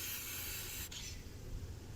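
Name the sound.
Fix-a-Flat tire sealant sprayed into tire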